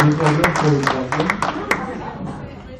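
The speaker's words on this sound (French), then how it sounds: "vous pouvez applaudir" Scattered claps from a small audience at a book reading, a few sharp hand claps standing out over chatter and voices that fade toward the end.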